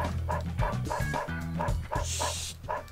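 A dog in the video game Dog's Life barks and yips in a steady rhythmic string of about eight close, loud barks over a low droning game background.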